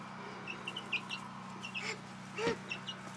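Chickens cluck softly in their new coop, short scattered calls and one louder squawk over a low steady hum, fairly quiet and with no talking.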